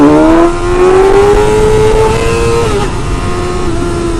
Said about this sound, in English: when you yank back the throttle